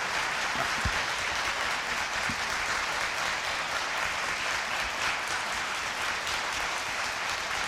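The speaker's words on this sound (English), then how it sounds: "I'll ask you to refrain Jerry from applauding." Steady, sustained audience applause at a TSC Board of Trustees meeting in February 2011, a dense even patter of many hands clapping that fills the room and continues throughout without talk.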